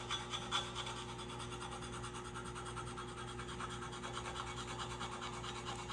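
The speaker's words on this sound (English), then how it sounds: "take your soapstone, and around that circle, just put a nice soapstone mark." Soapstone drawn around a scribed circle on steel plate as layout for oxyfuel cutting, giving a steady dry rubbing scrape that runs continuously at close range with no talk.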